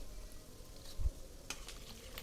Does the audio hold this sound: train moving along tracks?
no